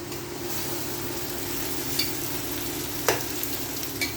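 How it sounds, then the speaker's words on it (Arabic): Sugar being stirred in a hot pan, a soft continuous sizzle with a few faint scraping clicks from the spoon, no voices. "نقلب كويس جدا وانتوا شايفين كده."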